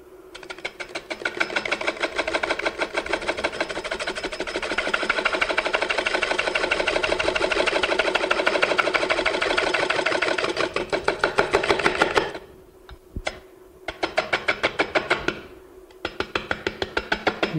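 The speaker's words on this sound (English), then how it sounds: "So what I'm using is simply my skew, and I'm gonna cut it." Skew chisel cutting a spindle on a wood lathe while turning furniture parts, a dense rapid rattling chatter that runs steadily for about twelve seconds, breaks off briefly, then resumes in short bursts, near and loud with no talk.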